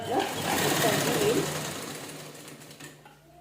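A sewing machine runs a double line of stitching along a blouse seam, a steady close mechanical whir that slowly fades and stops near the end, with a voice talking over it.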